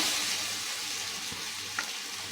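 Kendai fish shallow-fries in coconut oil on a hot village griddle, giving a soft, even sizzle that stays faint and steady throughout, with one small tap near the end and no talking.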